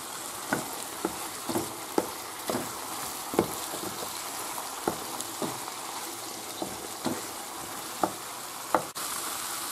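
Chicken pieces and sausages sizzle in a frying pan for a chicken-and-sausage rice dish as they are stirred, with a steady fizzing bed broken by sharp grease pops and spatters every second or so, close and fairly loud.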